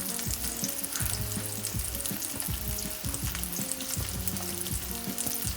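Breadcrumbed salmon patties fry in a pan with a continuous close sizzle, punctuated by repeated clicks and scraping taps of a utensil over several seconds.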